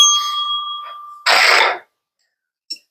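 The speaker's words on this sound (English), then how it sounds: "this Everything is Awesome bell will soon be in the hands of our contest winner" An Everything is Awesome prize bell rings once with a bright, clear tone that fades for about a second. A short noisy burst follows, then a faint tap.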